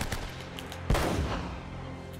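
The player's favourite gun in Uncharted: Drake's Fortune fires one loud, sharp shot mid-clip with a booming tail, preceded by a few fainter pops, with no talking.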